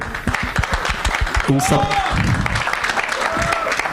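Applause from an audience at a Hindi film event, a steady wash of clapping under a voice that keeps speaking throughout.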